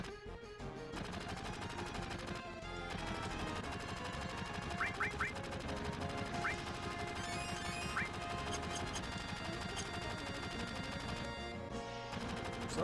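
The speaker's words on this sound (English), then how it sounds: "Watch where he's shooting, man." Gunfire in Final Fantasy VII keeps up rapid, continuous machine-gun-like rattling through dense game music and effects, steady and fairly loud throughout.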